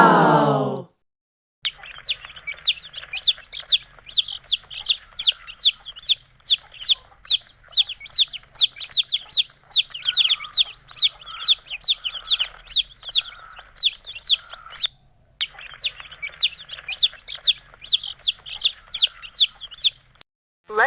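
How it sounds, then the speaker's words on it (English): Baby chicks cheep in rapid, high-pitched peeps that repeat steadily for nearly twenty seconds. The peeping is close and bright, with a brief gap partway through, and a short sound bursts in at the very start. "these are chicks"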